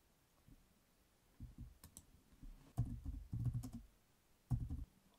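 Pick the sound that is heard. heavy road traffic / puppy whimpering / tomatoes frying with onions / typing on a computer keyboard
typing on a computer keyboard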